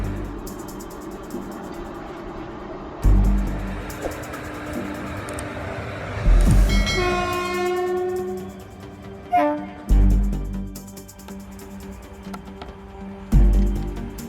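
A train approaches and rushes past with loud rumbling and clattering, its horn blaring one long sustained blast in the middle, followed by a few heavy thumps as the cars go by.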